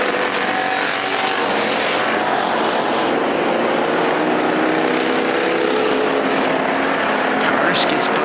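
An American Factory Stock race car engine roars on the dirt track at Perris Auto Speedway, a loud, continuous drone holding steady as the car gets back on the throttle.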